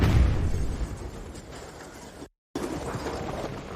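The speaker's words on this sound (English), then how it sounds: "The building was damaged in the explosion." A building explosion, heard as a loud broadband rumble that fades into a sustained noisy wash. The sound cuts to brief silence, then a second burst of debris-like noise follows, close and heavy.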